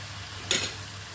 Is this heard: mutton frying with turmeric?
yes